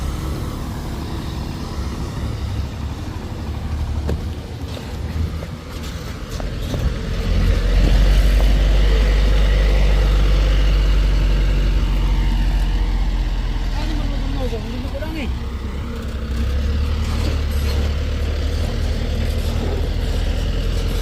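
A six-wheel truck labours up the steep Batu Jomba uphill road, its deep engine rumble swelling louder midway and holding steady, with a person talking over it.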